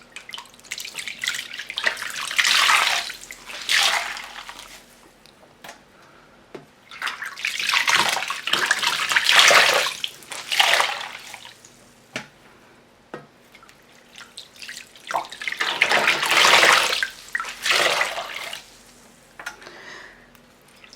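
Tap water runs in three strong bursts while hand-dyed wool yarn is rinsed and washed, splashing and gushing between quieter drips and handling, close and fairly loud.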